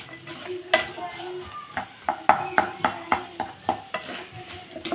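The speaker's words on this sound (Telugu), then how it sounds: "ఉల్లిపాయ అనేది కొంచెం మగ్గుతుంది" Onions sautéing in a pan for a potato, meal maker and green pea curry, with a spoon scraping and stirring in a steady series of sharp knocks over a soft, continuous sizzle, close up and with no talking.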